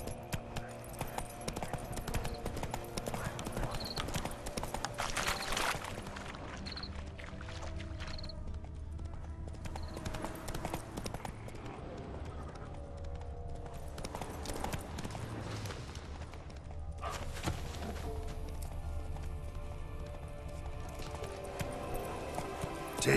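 Horse hooves gallop in The Witcher 3, a steady clip-clop rhythm running under game ambience and background music throughout.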